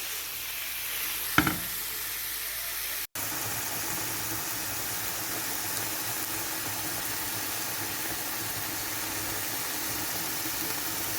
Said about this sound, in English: I'm going to add in the meat and cook this up nice and slow.